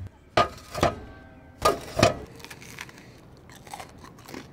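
Freshly baked bread from a Hike Crew camping oven is bitten and chewed up close, with crisp crunches in two pairs followed by softer, fainter chewing.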